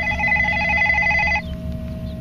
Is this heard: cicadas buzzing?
no